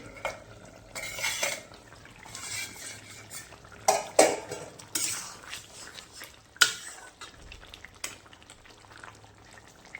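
A lid lifted off a cooking pot of simmering potatoes in a village kitchen, giving a few sharp metallic clanks and scrapes over a soft background hiss, close and fairly quiet.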